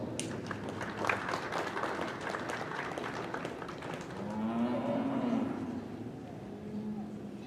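An audience applauds senior showmanship finalists at a spring dairy expo, a steady patter of clapping, with a cow lowing loudly nearby as the applause continues.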